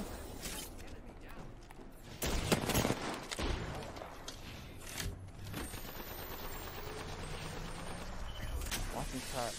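Gunfire in the Apex Legends video game, with bursts of shots and sharp cracks scattered through the clip, loudest around the middle, under ongoing game noise and faint voices.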